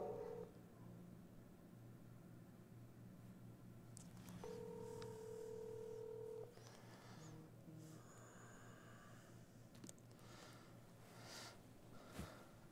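Telephone dialing while placing a call during a live crime-watch broadcast: a steady tone holds for about two seconds, followed by a few faint beeps over a low background hum.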